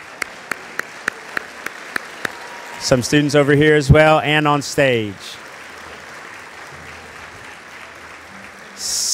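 Audience applause at a high school band spring concert honoring all-region students: a few sparse separate claps, then someone speaking over a PA, followed by a soft, distant, steady wash of clapping.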